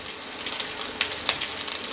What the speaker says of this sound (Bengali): তেলটা গরম হয়ে গেছে, এখন আমি কাঁচা পেঁয়াজ আর কাঁচামরিচ আর পেঁয়াজগুলো দিয়ে দিচ্ছি